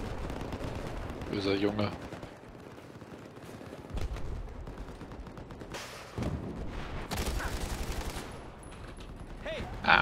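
Automatic and burst gunfire in Battlefield 4 rattles through the scene in repeated volleys with loud spikes, mixed with game noise while someone speaks over it.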